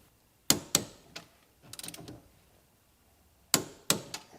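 Torque wrench clicking as lug or caliper bolts on an LS7-powered car are brought to 40 foot-pounds, a few sharp ratchet clicks in two close bursts with light handling noise between.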